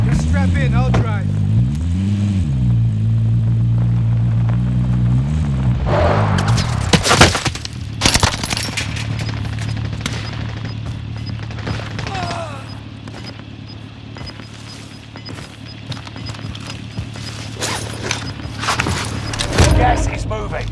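Vehicle driving in Call of Duty Warzone Pacific, an engine hum under game radio chatter and clattering effects, with a few sharp cracks.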